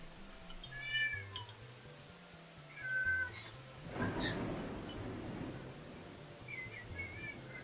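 A cat meows several times indoors, short rising calls spaced apart at moderate distance, with a quiet voice and a sharp noise burst in between.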